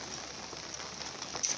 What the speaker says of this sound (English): it's raining heavily out here